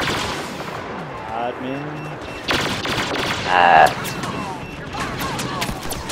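Blaster fire crackles in repeated bursts during Star Wars Battlefront gameplay, with a louder volley near the middle, and voices talk over it.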